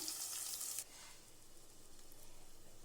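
Chicken and onion frying in a pan: a close, bright sizzle that drops after the first second to a softer, steady crackle.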